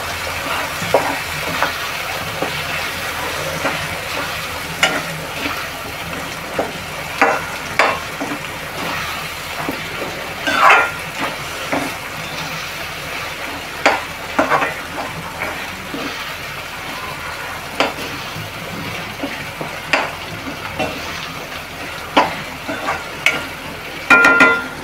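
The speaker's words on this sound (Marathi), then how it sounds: "तेलात चांगलं परतून घेऊया." Onion-coconut paste fries in oil for a Malvani clam curry, a low sizzle under repeated spoon scrapes and knocks against the pan at an irregular pace, close and without talk.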